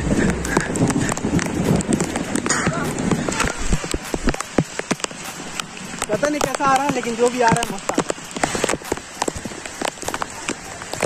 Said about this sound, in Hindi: पूरा भींग है भाई, और बारिश हो रही है